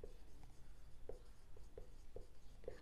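A pen writes numbers on paper during an accounts lesson, giving faint, close scratching strokes in short repeated bursts at a quiet level with no voice.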